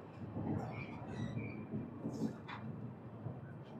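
Express train 17221 from Kakinada Port to Mumbai LTT rolls near Rajahmundry station, a dense rumble of wheels on rails with scattered squeals and metallic clicks, heard from on board and fairly faint.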